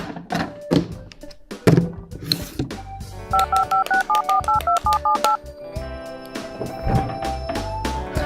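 A run of telephone keypad tones as a number is dialed on a phone at home, about a dozen short evenly spaced beeps, loud and close, set between other clatter and background music.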